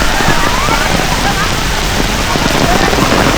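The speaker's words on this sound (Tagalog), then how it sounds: "Sobrang lakas ng ulan guys." Steady, heavy rain in Da Nang, Vietnam hisses loudly and continuously, with dense drumming on a surface and no pauses.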